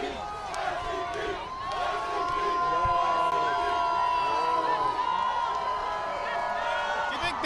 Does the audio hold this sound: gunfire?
no